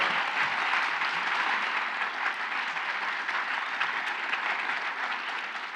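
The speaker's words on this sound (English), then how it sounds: "I'd invite all of you to give them a round of applause." A conference audience applauds a panel of journalists, a soft, even wash of clapping heard from a distance that continues steadily for several seconds.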